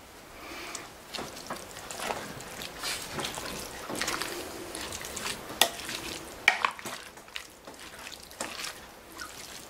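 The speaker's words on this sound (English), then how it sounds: "Give this a final stir." Hamburger hash of beef and minced garlic stirred in a pan, with continuous scraping and wet shuffling over a soft sizzle, punctuated by a few sharper utensil knocks near the end.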